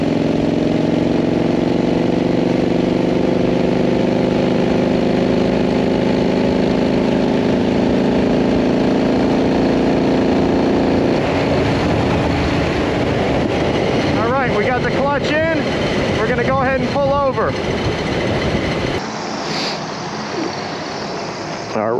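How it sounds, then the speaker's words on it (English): An S&S Super E carbureted motorcycle engine runs on after a wide open throttle pull, giving a loud, continuous rumble that shifts midway into a rougher, wavering tone, with a voice talking over it near the end. "we just did a wide open throttle, killed the motor"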